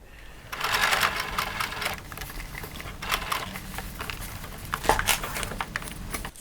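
A sewing machine stitches reinforcement lines on ultralight tent fabric, running in close bursts of rapid mechanical chatter with brief pauses, loud and alone.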